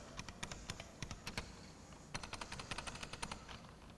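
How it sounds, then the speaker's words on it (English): Rapid keystrokes on a computer keyboard during an early-1990s PC demo at a New York computer expo, running in irregular bursts with a brief pause midway, fairly close and alone without talk. "now I'm going to go back to Ami Professional and try to type."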